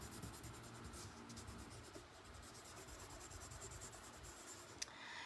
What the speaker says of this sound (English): We're gonna scribble on the back to make like an instant carbon paper.